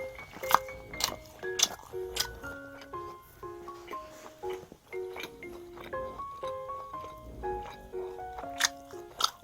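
Prime beef steak being eaten during a solo drinking meal, with repeated close bites and chewing in an uneven rhythm, loud at times, over faint construction-like noise and a few soft murmurs.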